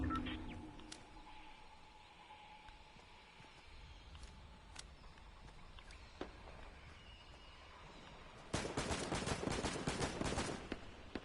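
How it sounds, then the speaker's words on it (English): Scattered distant video game gunshots crack sporadically in a quiet scene, then a dense burst of rapid gunfire erupts near the end. "I hear gunshots."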